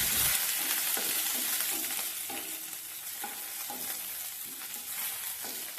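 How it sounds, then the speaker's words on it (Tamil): Dried red chillies, shallots and curry leaves sautéing in hot oil over a medium flame, with a steady bright sizzle and occasional stirring scrapes and clinks close by. "கருவேப்பிலையை சேர்த்து 2 நிமிஷம் மீடியம் ஃப்ளேம்லேயே வதக்கி விட்டுக்கோங்க."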